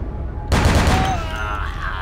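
Gunfire in a video game, a sudden loud burst of rapid shots that rings out and fades with a whistling tone, heard alone.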